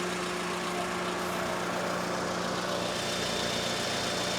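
A 16-valve four-cylinder car engine idles steadily and loudly at close range under the open hood, with a constant droning hum and slight shaking vibration, with no talk.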